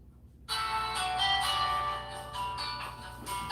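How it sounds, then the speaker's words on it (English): A phone rings with an incoming call, starting abruptly after a moment of silence and continuing as a bright, pulsing electronic ringtone melody, fairly loud and alone. "I've got a phone call."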